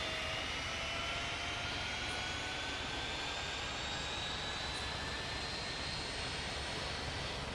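Jet aircraft taking off in Tower Simulator 3 at Richmond: a steady, loud broadband engine roar that holds constant throughout, with faint rising whine tones above it and no talk.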